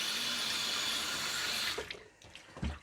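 Hot water gushes from a kitchen tap in a steady, close rush, then is shut off, leaving a few faint clinks and a soft thump in the quiet.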